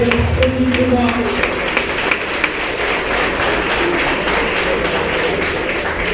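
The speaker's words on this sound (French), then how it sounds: "On peut les applaudir, mesdames et messieurs" Loud, dense applause from a crowd at an MMA event, a continuous patter of many hands clapping that starts over a voice speaking and carries on steadily.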